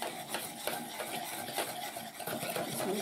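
Heavy cream being stirred into a creamy cheesy fish bake mixture, a steady close scraping and clicking of utensil against bowl with soft rhythmic strokes running throughout, no talking.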